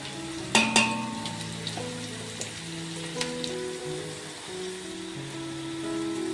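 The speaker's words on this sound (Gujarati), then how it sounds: "તેલ બરાબર ગરમ થઈ ગયું છે સૌથી પહેલાં આપણે કોબી નાખીશું કોબીની ઉપર સેજ જીરું નાખીશું" Cabbage and cumin sizzle in hot oil in a pan, with a steady crackling fry and a couple of sharp clinks near the start, heard up close with no talking.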